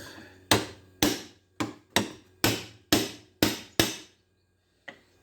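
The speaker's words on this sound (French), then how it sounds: "je prends un ciseau et je vais l'ouvrir" A chisel struck with a hammer to split open a brass four-way valve: eight sharp metallic blows in a steady rhythm, then a pause and one final hit, loud and close, each ringing briefly before fading.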